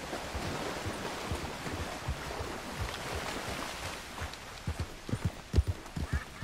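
A horse's hooves clip-clop while it is ridden in the video game Red Dead Redemption 2, the thuds growing louder and more distinct toward the end over a steady outdoor wash of water-like ambience.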